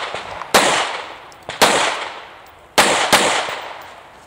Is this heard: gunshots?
yes